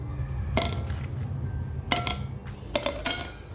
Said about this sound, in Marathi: बर्फाची क्यूब टाकू आपण